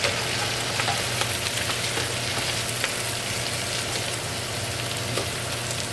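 Cabbage cooking in a pan with bacon fat sizzles and crackles continuously at close range, a steady, dense frying hiss with faint scattered pops and no voices.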